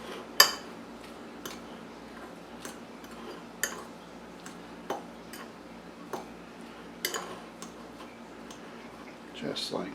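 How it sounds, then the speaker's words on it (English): A spoon stirs chopped vegetables into egg salad in a bowl, tapping and clicking against the side at an irregular pace, close but fairly quiet over a low background hum. "I like to give it a nice stir to get it all together before we put the mayo in"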